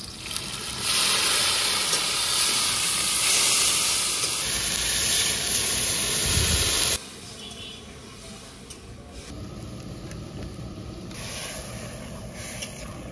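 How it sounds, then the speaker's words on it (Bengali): Red lentil dal with garlic and onion boils in a pot at a rooftop winter picnic, a steady close hiss and bubbling steam that fills the first half, then drops to a quieter simmering wash. "ডালটা প্রায় ফুটেই গেছে"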